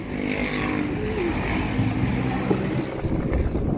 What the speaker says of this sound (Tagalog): Ayan, lakas ng hangin guys.